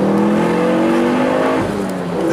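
A Ford Focus RS accelerates hard on an open road, its engine note climbing loud and close through the gears with a brief dip at a shift before pulling again, no voices over it.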